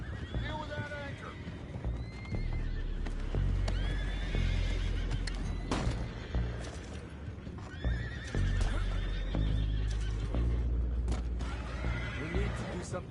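Horses in a Western video game whinny repeatedly, with steady clip-clopping hooves and creaking wood beneath them, moderately loud and continuous, alongside some talk.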